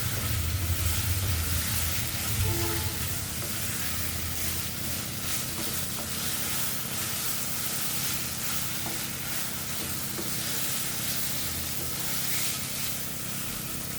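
Fish mixture with green chillies sizzling steadily in a hot pan, a dense continuous frying hiss with occasional stirring scrapes, close and fairly loud throughout.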